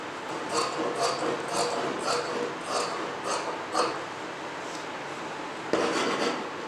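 Scissors snip through blouse fabric in a run of repeated crisp cuts, steady rhythm with brief pauses, close and fairly quiet, with no talking.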